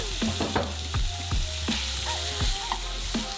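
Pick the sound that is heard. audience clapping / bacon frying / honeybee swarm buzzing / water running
bacon frying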